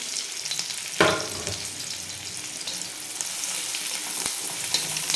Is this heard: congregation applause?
no